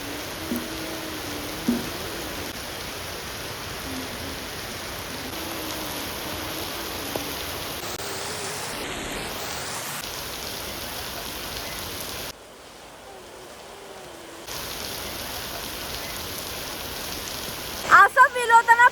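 Heavy monsoon rain pours steadily as a continuous hiss on a rural village setting, briefly dropping in level midway before resuming, with a few faint sharp knocks and a short burst of noise near the end.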